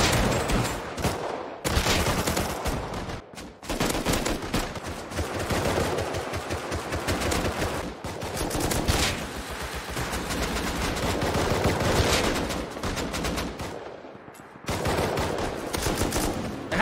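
Gunfire in the survival video game Rust: dense rapid bursts of automatic shots and single cracks, loud and close, running almost continuously with brief pauses between volleys.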